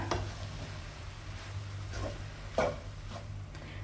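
Rice being stirred and tossed in a flat tawa pan while making egg pulao, with a handful of soft scraping strokes and scattered metallic clinks over a low steady kitchen hum.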